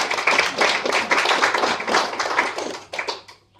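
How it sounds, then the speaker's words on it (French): Clapping from a small audience at a talk, close and fairly loud, with a brisk dense rhythm that breaks into a few sparser claps before stopping. "on peut encore l'applaudir"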